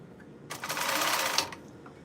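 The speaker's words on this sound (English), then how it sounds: "It's running my sewing machine." A sewing machine run from a portable power source while altering clothes, stitching in one steady, fairly loud burst of about one second, with quiet room sound before and after.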